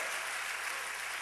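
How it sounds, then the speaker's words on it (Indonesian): A church congregation at an Easter service claps together in a dense, continuous burst of applause, loud and close, with no voices on top. "memberikan tepuk tangan bagi Allah kita"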